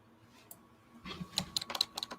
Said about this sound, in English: I just heard somebody typing.